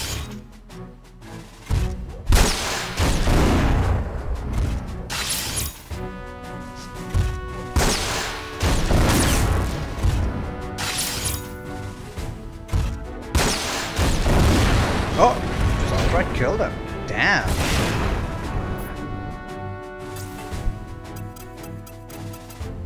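Bazooka blasts and explosions in the PS2 game Front Mission 4, several booming impacts scattered over game music, with a voice talking between them.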